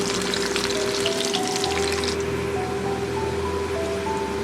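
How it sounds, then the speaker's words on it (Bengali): Thinly sliced potatoes with a pinch of salt fry in hot oil in a pan, making a steady, close sizzle with a faint constant hum behind it. "ভালো করে আমি ভেজে নেব"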